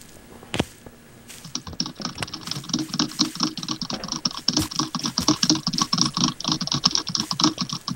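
Fingers tap and scroll rapidly across a computer keyboard during a game, a dense run of quick, close keystroke clicks that starts after a pause and continues steadily to the end.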